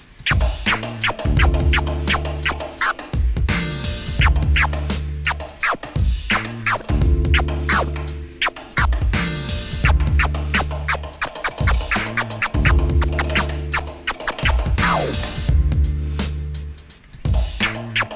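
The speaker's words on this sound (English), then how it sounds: "you're actually pushing the record faster with your record hand" Stab scratches on a vinyl record, the record hand pushing it faster, giving short sharp repeated cuts over a steady looping beat, loud and close with no speech.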